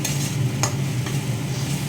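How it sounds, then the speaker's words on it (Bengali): Spices are sautéed in a frying pan, with a soft, continuous sizzle and the scrape of stirring against the pan, close and fairly quiet. "এবার এটা আমি ভালো করে কষিয়ে নিব"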